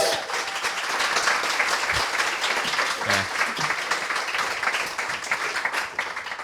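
Live audience at a talk on Dublin food history gives sustained applause, a steady dense wash of clapping that fills the room for several seconds, loud and close, with a voice briefly audible underneath.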